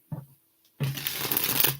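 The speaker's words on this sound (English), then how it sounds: "they're definitely shuffling better" A deck of thin Disney Alice in Wonderland playing cards is shuffled by hand, a brief riffle tap followed after a pause by a dense, continuous flutter of cards close up.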